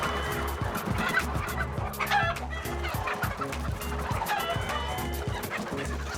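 Chickens clucking steadily in a coop or farmyard, a dense continuous chorus of near and mid-distance clucks with no talk.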